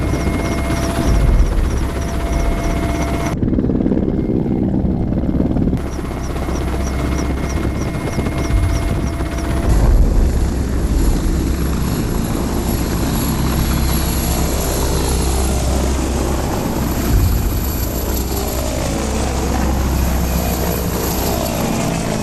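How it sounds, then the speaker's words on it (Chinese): A helicopter lifting off during a military special forces operation, its rotor and engine roaring loudly and steadily throughout with a brief dip in tone early on and no talk. "唐明，露露，可以起飞了"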